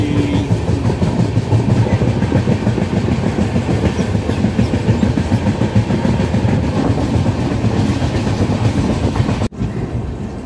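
The Palace Queen Humsafar Express 19668, running from Bengaluru to Vasai near Jejuri, rumbles steadily along the rails, its wheels giving a continuous clickety-clack. The sound stays loud and even, broken by a brief dropout near the end.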